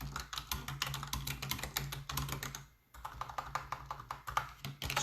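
Rapid, continuous keystrokes on a computer keyboard as a comment is typed, close and clear, with one brief pause partway through before the clatter resumes.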